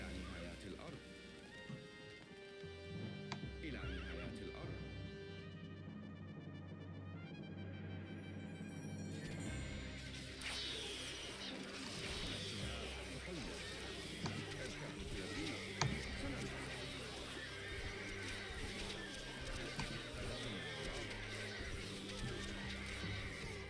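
Horsemen units in the Stronghold Crusader strategy game charge into battle, with horses whinnying and hooves clattering amid a dense, continuous battle din, while someone talks over the game sounds.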